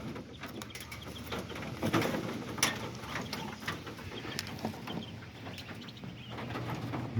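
Aviary birds, mandarin, hooded and wood ducks, give soft scattered calls and chatter against a low background, with quiet clicking and rattling sounds mixed in throughout, nearby and fairly faint.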